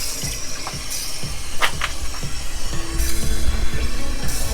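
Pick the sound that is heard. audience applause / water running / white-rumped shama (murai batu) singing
water running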